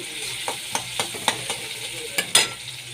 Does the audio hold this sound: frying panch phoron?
yes